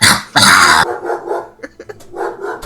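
A person imitates growling with their voice in a short, rough, throaty burst that sounds somewhat like a dog. It is loud and close at first, then fades into quieter murmurs and breaths.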